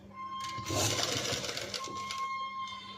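Sewing machine stitching the neckline of a sleeveless, cut-work, padded blouse, a steady close whir running through most of the clip with a bright mechanical buzz and a faint hum beneath.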